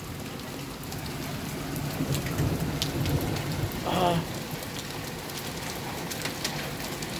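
Hail and rain pour steadily outdoors in a 2022 hailstorm, a dense continuous patter on surfaces with a brief rise in intensity partway through and a faint voice.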